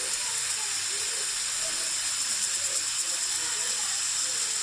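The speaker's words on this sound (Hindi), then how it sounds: "अब हम ढक्कन बंद करके तकरीबन 5 से 10 मिनट के लिए इसको प्रेशर कुकर में पकाएंगे।" A closed pressure cooker steams on the stove while mixed vegetables cook inside, giving a steady, loud high hiss that continues unbroken throughout.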